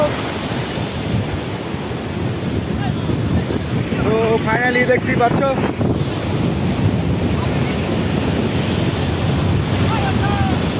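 Sea waves break and wash onto a beach in a steady, continuous roar under heavy wind noise, while someone talks briefly partway through.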